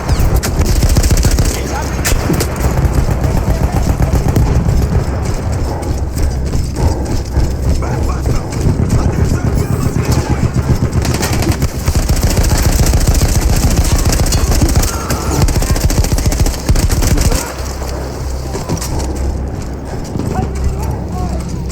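Loud, sustained gunfire from a mounted gun in a World War I Battlefield game set in Italy, 1918, rattling continuously in dense bursts over a busy battle din.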